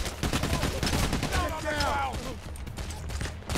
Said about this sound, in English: Keep shooting at it.